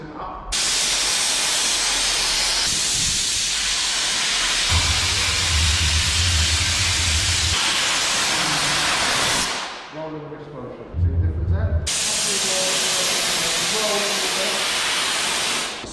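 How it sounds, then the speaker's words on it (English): An Optima steam cleaner machine hisses loudly and steadily up close, a broad continuous jet of steam that cuts out briefly, with a few words of talk in the gap, then resumes. "use steam to loosen it up"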